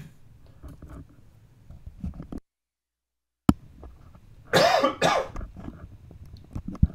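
A single muffled cough close to a microphone, heard among quiet handling noises and clicks in an otherwise hushed room during a game development session, with a stretch of dead silence before it.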